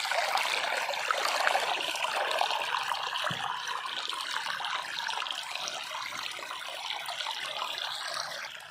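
Water flows and trickles steadily through a farm irrigation channel, a constant soft rushing gurgle with no voices.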